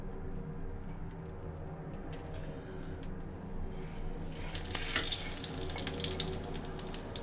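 Dry coriander added to hot smoking oil for aloo matar sabji, a steady sizzle that swells into a louder, bright crackling hiss halfway through, close, with no talking.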